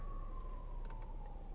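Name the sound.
ambulance siren passing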